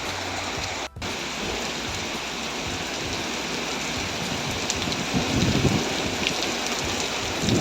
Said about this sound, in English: Getting a bit too rainy.